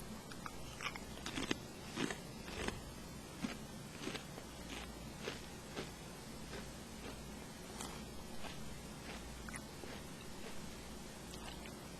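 Repeated crisp bites and crunches of Lay's Stax Korean BBQ stacked potato chips, a cluster of sharp snaps early on followed by steady close-up chewing crunches spaced across the stretch, no talking.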